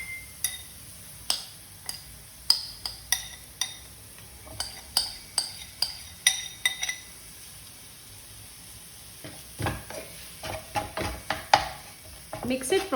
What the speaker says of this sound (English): we'll add our mashed potatoes.